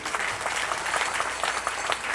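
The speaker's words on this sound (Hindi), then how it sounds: "पूरे के पूरे मंच पर बैठे हुए गुरुजनों और संतजनों के नाम से भी आप ताली बजाइए।" An audience at a religious gathering honouring saints and gurus seated on stage breaks into dense, steady applause, many hands clapping together for a short burst.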